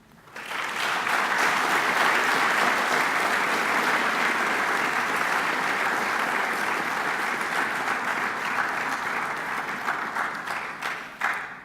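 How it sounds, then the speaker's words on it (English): At a December graduation ceremony, graduates give a long round of applause for their parents, family and friends; the clapping swells in quickly, stays dense and steady, and eases slightly before a final louder clap. "give a big round of applause to your parents, your family and friends"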